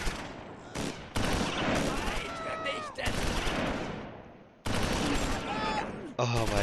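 Rifle teams firing in the World War II strategy game Close Combat IV, set at Baugnez and Esch Sur Sure: bursts of crackling gunfire with sharp pops and ricochet-like whines, pausing briefly between volleys, with a voice talking over the shooting.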